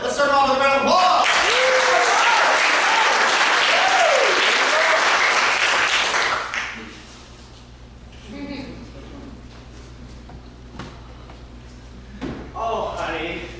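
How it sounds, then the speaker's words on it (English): Loud applause and cheering from an audience at a summer camp improv showcase fills the first six seconds, then fades into sparse claps and stage sounds before voices return near the end. "Let's start off with a round of applause."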